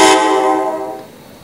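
An MTH Proto model locomotive plays a horn sound clip: one loud, bright multi-tone blast that fades out over about a second.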